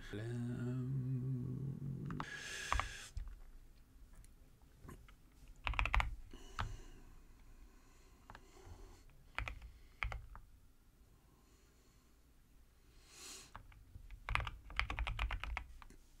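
Keystrokes on a computer keyboard while a Vim configuration file is being written, in uneven bursts of clicks and taps, with occasional short pauses and quiet voice fragments in between.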